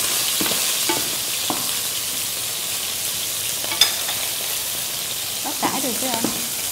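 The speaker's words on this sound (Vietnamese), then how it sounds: "Bây giờ anh sẽ chiên cái miếng nước vịt này nha. Mình chiên thì để cho nó ra hết cái lượng mỡ." Duck breast fries in a pan to render out its fat, giving a steady hiss of sizzling fat with scattered pops and a few soft scraping stirs throughout.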